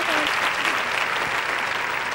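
An audience at a comedy show gives brief, dense, steady applause, loud and close, filling the whole moment with a faint voice beneath.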